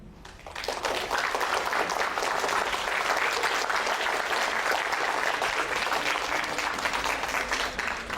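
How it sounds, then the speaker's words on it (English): An audience at a caricature-and-education creative talk claps, with applause starting after half a second and holding as a dense, steady wash of clapping for the rest of the clip. "please clap your hand"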